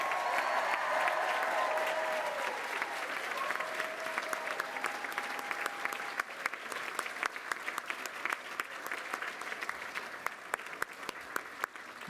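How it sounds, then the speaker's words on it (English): Sustained applause with cheering from a large crowd honouring graduates at a University of West London graduation ceremony, steady dense clapping continuing throughout with a few louder individual claps standing out. "a huge round of applause and cheers for our graduates"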